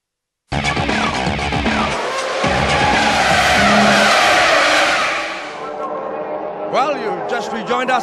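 Proton production race cars, including Satria GTi and Putra 1800cc entries, roar past loudly in a Class 1 and Class 2 circuit race, engines straining and tires squealing through a corner, with a commentator talking over the noise.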